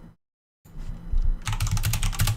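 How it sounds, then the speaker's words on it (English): Fast typing on a computer keyboard during a Monkeytype speed test: after a brief silence, a rapid close run of crisp key clicks and clacks starts up and speeds into a dense, steady rattle. "See if we can't do some monkey typing."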